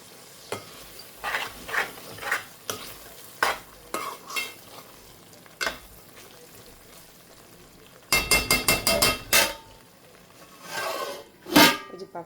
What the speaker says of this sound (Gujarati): ચાલો આપણે મસાલો ફેરવીને જોઈ લઈએ લોવા પેક છે કે નહીં.